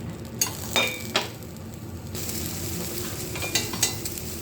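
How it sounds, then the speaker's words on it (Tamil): Turkey berries sauté in oil over a low flame, giving a soft continuous sizzle with a few clinks and scrapes of a spoon against the pan, close and without speech. "அந்த எண்ணெயில் வதங்கிட்டு இருக்கு பாருங்கள்"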